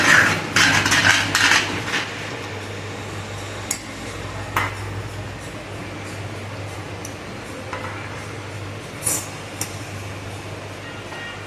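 A spoon scrapes and clinks against a pan while spinach-dill bhaji is served out, giving a few sharp metallic taps and scrapes over a quiet, steady room hum.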